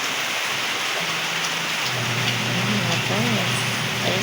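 Rain falling steadily on a rainy Valentine's Day, a dense constant hiss with a low hum beneath and faint tonal sounds drifting through.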